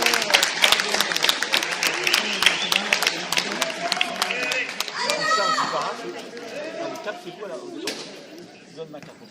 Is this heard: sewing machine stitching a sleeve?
no